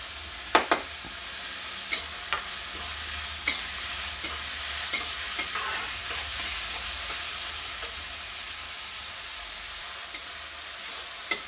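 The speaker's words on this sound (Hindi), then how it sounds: "अब हम इस प्याज को अच्छे से लाल होने तक भून लेंगे।" Finely chopped onions fry in a pan, a steady soft sizzle under repeated sharp clicks and scrapes of a spoon stirring against the metal, heard up close without talk.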